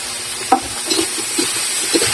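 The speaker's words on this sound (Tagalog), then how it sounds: "Halu-haluin lang natin yan hanggang sa medyo lumambot." Laing, taro stalks and leaves, stirred in a frying pan: a steady soft sizzle broken by a few distinct scraping stirs, close and alone.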